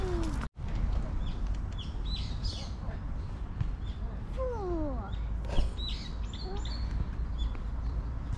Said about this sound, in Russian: Тут так птички чирикают.